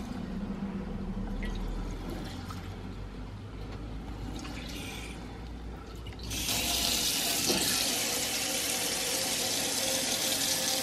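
Water runs from an outdoor tap into a motorhome's drain pipes as a steady, close rush. The flow grows noticeably louder and brighter partway through, with no voices.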